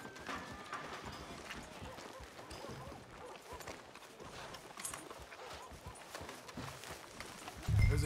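Horse hooves clip-clop steadily on a street in the video game Red Dead Redemption 2, a continuous moderately loud trotting rhythm over game ambience, ending in a louder low thump.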